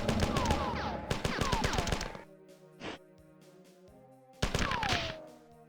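Assault rifle fire in the classic Marathon PC game: a rapid burst of shots for about two seconds, a lone thud, then another short rapid burst, loud and close.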